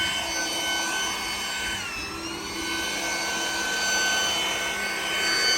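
A leaf blower blowing cut grass off a lawn gives a steady, loud, close whine and rush of air with a slight pitch dip partway through and no pauses.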